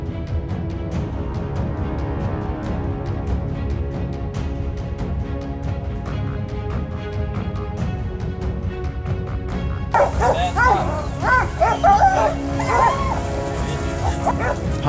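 Hunting dogs on a wild boar hunt in South Africa yelp, whimper and bark excitedly in the later part, mixed over steady background music.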